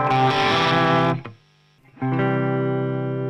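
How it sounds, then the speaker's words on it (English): Electric guitars, a heavily distorted part and a clean one, ring in sustained chords, cut off briefly into near silence after about a second before the full overlapping tone returns loud and steady. "the guitars overlap and you have the distortion guitar with the non-distorted guitar"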